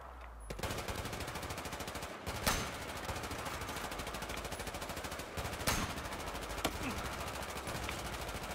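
Continuous heavy gunfire from the Battlefield 4 campaign's first mission, a steady dense rattle of automatic weapons with a few sharper shots standing out, loud throughout with no talking.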